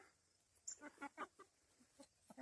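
Several chickens cluck in short, uneven bursts at a farm in Illinois, some calls sharper and higher, moderately close with faint background noise and no talking.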